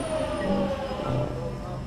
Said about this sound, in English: The underground train is very bumpy.